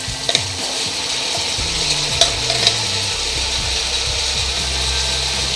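Two medium-sized tomatoes go into a pot of chicken pulao with vegetables, bringing a steady frying sizzle with repeated scraping and clinking of a spoon stirring against the metal pot, close and continuous.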